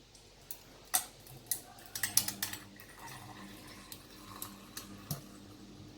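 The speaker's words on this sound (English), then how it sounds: "I'm going to pour some milk on top of this" Milk is poured over ice in a glass while making dalgona coffee, with a soft liquid trickle and a scattering of sharp, quiet clinks and ticks from the shifting ice cubes.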